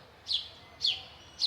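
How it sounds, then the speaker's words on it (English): Birds chirping in a backyard where a koi pond is being built, three clear, evenly spaced high tweets standing out over a quiet background. "You can hear the birds chirping"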